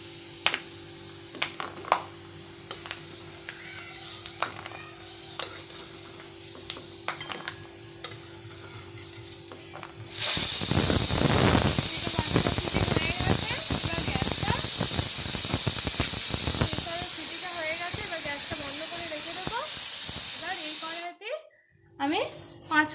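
A pressure cooker cooking ghugni lets out a loud, steady whistle and rush of hissing steam that lasts about eleven seconds, following quieter kitchen clatter and talk, then cuts off abruptly.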